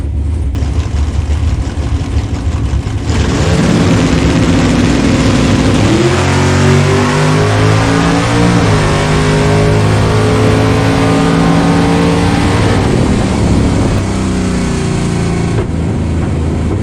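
Drag racing cars launch and accelerate hard down the track in a bracket race, a loud, sustained engine roar that climbs in pitch through gear changes, continuous from start to finish.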